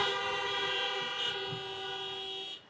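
Car horns honking together at a drive-in high school graduation ceremony, a sustained loud blare of overlapping horns that tapers off near the end.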